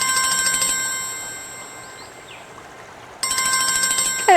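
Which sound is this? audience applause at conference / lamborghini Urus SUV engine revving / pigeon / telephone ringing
telephone ringing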